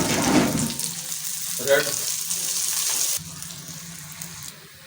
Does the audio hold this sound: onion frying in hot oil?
yes